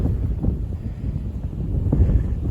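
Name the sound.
wind outdoors on winter pasture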